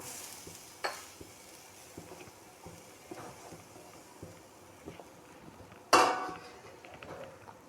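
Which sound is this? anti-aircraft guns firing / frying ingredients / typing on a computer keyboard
frying ingredients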